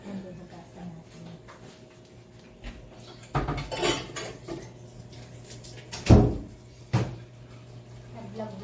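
Dishes and cutlery being washed at a home sink: clinks and clatters of plates, pots and silverware, with a couple of louder knocks over a low background hum and faint voices.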